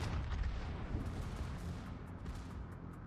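Naval gunfire in the video game World of Warships pounds a player's destroyer, a continuous rumbling barrage of deep booms and blasts, fairly quiet and steady throughout with no talk.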